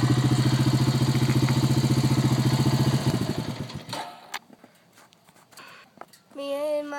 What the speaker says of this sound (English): now I'm gonna shift gears down